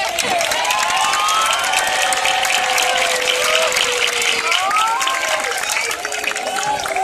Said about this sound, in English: Graduates, stand up, turn around, and applaud and thank your family for me